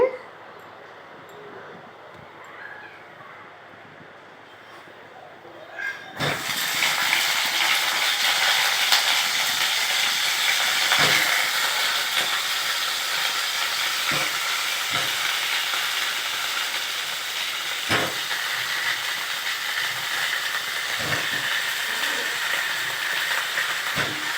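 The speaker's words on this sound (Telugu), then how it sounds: "ఇప్పుడు ఆయిల్లో మనం ఫ్రై చేసుకోవాలి" Stuffed eggplant drops into hot oil and sizzles loudly and steadily, starting abruptly after a few quiet seconds, with occasional clinks and stirring knocks over the constant frying hiss.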